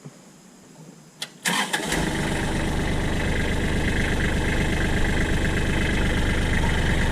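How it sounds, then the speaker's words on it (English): A Kubota L3400 tractor engine cranks and catches after a quiet second, then settles into a steady, loud, rumbling idle close by. "Let's go ahead and give a demo of the clutch engagement on this machine here"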